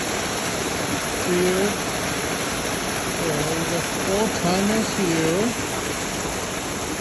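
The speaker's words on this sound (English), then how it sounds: "See the waterfall?" A small waterfall at a neighborhood pond pours in a steady, loud, continuous rush throughout, while someone talks briefly over the flowing water.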